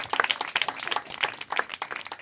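A church congregation claps together in a quick, steady rhythm, a brief burst of many hands at moderate distance in a room.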